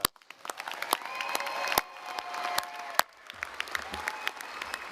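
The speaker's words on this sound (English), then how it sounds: "Another round of applause." Applause from a commencement audience at a university graduation ceremony, a steady wash of clapping at moderate distance with a few sharper claps standing out, thinning toward the end.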